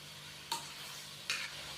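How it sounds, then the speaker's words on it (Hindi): Chicken with ginger-garlic paste fries in a pan with a faint, steady sizzle. Two sharp scraping stirs stand out against it, with no voices. "अच्छे से हम इसको मिक्स करेंगे और चिकन को 5 मिनट के लिए भून लेंगे"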